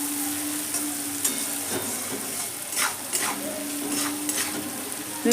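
Vegetables frying in a pan, a dense steady sizzle broken by repeated scraping stirs and a faint metallic ring in the background, close and fairly loud.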